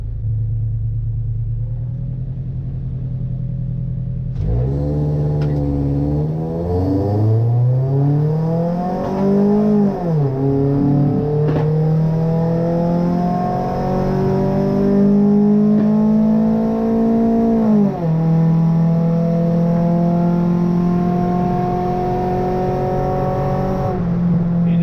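An Acura Integra on all-season tires launches down a drag strip, its engine rumbling low and then revving hard through rising gear pulls with shifts, loud and close throughout with no talk.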